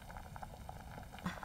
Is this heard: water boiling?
yes